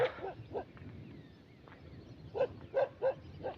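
A dog barks in short bursts, a few at the start, then a quick run of three or four barks, moderately near, with no talking.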